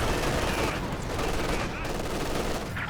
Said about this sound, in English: Big shot from the Panzer IV there.